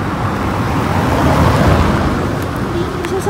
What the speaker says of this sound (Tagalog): Ay, sasakyan.